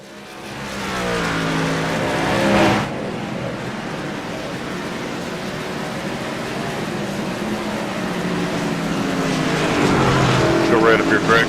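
Virtual race truck engines in a racing simulator at a Watkins Glen track, a steady loud droning roar that swells and revs, with a voice talking over it near the start and end.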